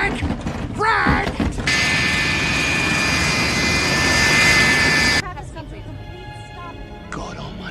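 A jet airplane landing in a film scene, a loud sustained engine roar with whining tones that cuts off abruptly, with shouted voices before and after.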